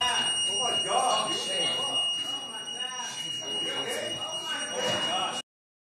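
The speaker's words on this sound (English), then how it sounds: "that alarm is going off in the courtroom because he did just attack the judge" A courtroom alarm sounds after an attack on a judge, a steady electronic buzzing tone that runs under excited, overlapping voices and then cuts off abruptly.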